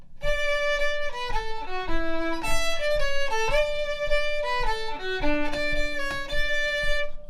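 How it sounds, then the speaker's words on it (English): A fiddle plays a flowing tune in a gentle three-beat waltz lilt, bowed notes sliding between pitches, loud and close with no voices. "If I played that as a waltz, it might sound like this."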